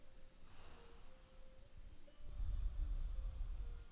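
Deep breaths during a yoga practice: a slow, airy inhale followed by a heavier, rougher exhale with a faint snort-like rush, close to the microphone.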